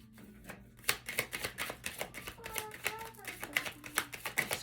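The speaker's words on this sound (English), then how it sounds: "I'm gonna shuffle one more time and see if I get anything else that we need." Tarot cards being shuffled in a series of quick papery riffles and taps, fairly faint, with a voice and faint tonal background noise in the room.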